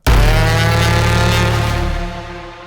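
A cinematic trailer braam: a single massive, low brassy blast swells in at once and holds heavy and droning for about two seconds before fading away.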